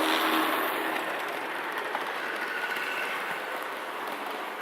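A small vintage Life-Like HO scale model train runs steadily on its track, a soft continuous rolling whir with faint rhythmic clicking, fairly quiet throughout.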